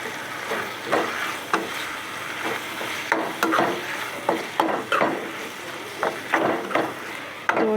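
Macaroni tossed with masala in a pan, stirred with a utensil: repeated scraping and clattering strokes over a steady frying hiss, close and moderately loud, with no talking.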